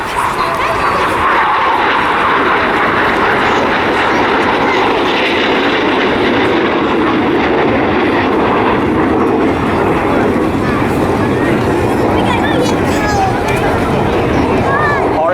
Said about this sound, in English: as Ben and Toby present a different view of the Hawk TT as they fly for you at Topside Park